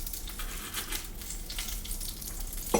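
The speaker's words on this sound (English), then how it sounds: "I'm gonna put the steak in, fat cap side down, and start rendering that first." A steak searing fat cap side down in a hot pan, a steady close crackling sizzle with soft pops throughout, heard alone without talk.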